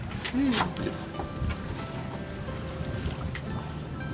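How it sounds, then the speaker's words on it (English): A sailboat moves across open water with wind and lapping water, plus a few creaks and knocks from the boat, faint and steady in the background. "right now we are on a nice little sail"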